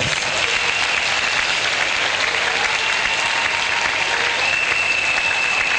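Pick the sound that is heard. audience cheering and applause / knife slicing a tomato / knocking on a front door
audience cheering and applause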